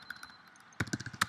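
Computer keyboard keys click quietly, a few sparse taps first, then a quicker burst of sharper, closer keystrokes in an irregular rhythm.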